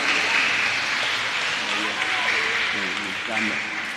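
A church congregation at an Easter Sunday service claps for a correct answer about Easter eggs, a loud, dense round of applause that fades gradually while a voice speaks over it near the end.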